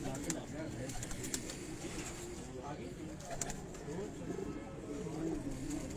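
Golden pigeons cooing from a rooftop loft in Kasur, a soft continuous murmur of coos and bird calls that runs under steady talk from men nearby.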